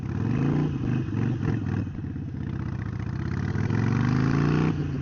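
A Harley-Davidson Iron 883 motorcycle engine, with water in it after pressure washing, sputters to life and settles into a rough, uneven idle close by, its low rumble wavering and revving slightly.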